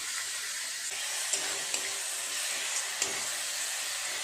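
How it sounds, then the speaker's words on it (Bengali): Spice paste with Kashmiri chilli powder frying in oil for a katla fish kalia: a steady, close sizzling hiss with a few sharp ticks and pops from the pan, and no talking. "মশলাটা এখন একটু সময় নিয়ে কষিয়ে নেবো, যতক্ষণ না তেল ছাড়ে মশলা থেকে।"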